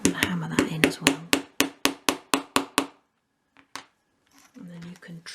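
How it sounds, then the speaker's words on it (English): Small pegs are tapped into a 1/12 scale model shop with a light hammer, about a dozen quick sharp knocks in steady rhythm, then a pause, two more taps and faint handling noise. "I'm going to hammer that in as well."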